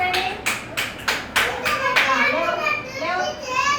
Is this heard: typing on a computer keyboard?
no